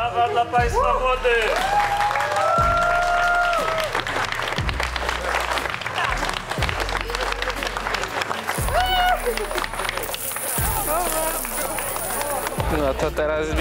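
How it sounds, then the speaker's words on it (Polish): Wedding guests applaud the newlyweds at a reception, steady clapping running throughout under loud music and voices. "Brawa dla Państwa młody!"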